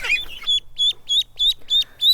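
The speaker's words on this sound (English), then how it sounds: "So we have our very first little baby ducks on the homestead." Khaki Campbell ducklings, very young, peep on a homestead in a series of six high, evenly spaced calls that rise slightly in pitch, close and clear with a faint low hum underneath.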